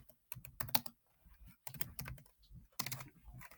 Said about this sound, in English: I am struggling with my typing today